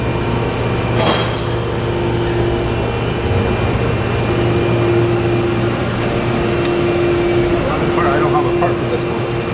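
A Takisawa CNC lathe spindle warming up, giving a steady machine hum with a sustained tonal whine. It runs continuously at even loudness throughout.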